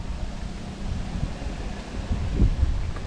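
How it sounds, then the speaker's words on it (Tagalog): Wind gusting at a scenic mountain viewpoint, heard as a low rumbling buffet on the microphone with a stronger gust toward the end. "Hangin."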